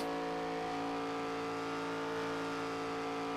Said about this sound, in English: You can hear Wes just a bit under power as we speak.